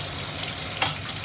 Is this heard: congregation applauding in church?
no